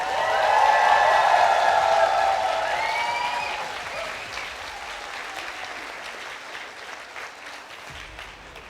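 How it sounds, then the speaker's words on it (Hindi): Audience clapping for a group at a motivational talk, loud and dense at first, then gradually thinning and fading, with some voices and whistle-like tones mixed in early on. "तो इनके लिए दिल से तालियां बजाओ"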